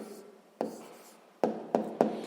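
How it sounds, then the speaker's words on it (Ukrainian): Pen or pencil writing down a maths answer on paper, soft scratching strokes with a few sharp taps near the end, close and quiet. "Записуємо тоді відповідь."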